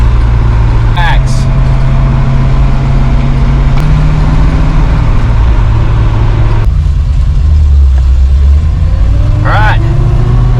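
A car fitted with a Holley Sniper 2 EFI and a TKX manual transmission drives in first gear, its steady engine drone close and loud throughout, with brief higher tonal sweeps as the revs shift.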